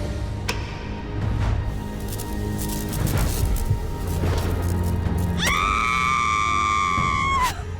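A loud shriek rings out in a Hindi-dubbed cartoon about turning into a vampire. It comes near the end amid busy, thumping background sound, with a sharp high cry held for about two seconds before it cuts off.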